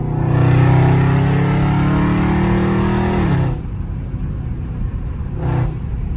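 A Dodge Challenger Scat Pack engine roars at full throttle from inside the car, a loud rising howl for about three seconds before easing off, then a brief second surge.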